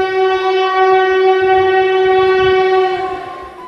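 A train on the Lumding–Badarpur hill railway in Assam sounds a long, loud, steady horn blast over the rumble of the moving carriages, fading slightly at the end.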